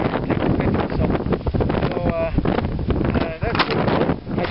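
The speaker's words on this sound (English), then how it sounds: "It's really windy up here." Strong, continuous wind roars and buffets the microphone on the Elk Mountain summit, with gusty rumbling throughout and a few brief vocal sounds underneath.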